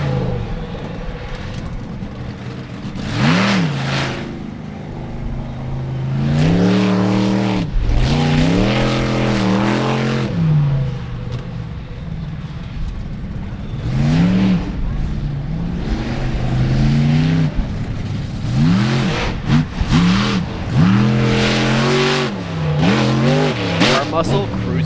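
Monster trucks race on a tough dirt track at the 4-Wheel Jamboree Nationals in Indianapolis, engines revving and roaring in repeated loud surges, with a commentator talking throughout.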